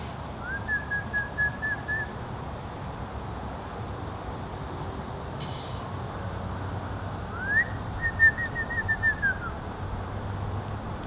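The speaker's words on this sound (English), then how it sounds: "Some kind of a weird bird." Two drawn-out whistling calls from an unidentified bird at night near an abandoned mansion in Bukit Tunku, Kuala Lumpur, each lasting a second or two, several seconds apart, faint and distant over a constant chorus of insects.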